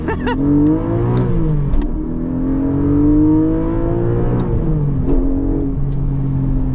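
A loud 2024 Porsche Cayman GTS 4.0 engine revs up through several gears of its manual gearbox, pitch climbing then dropping at each shift, close and continuous.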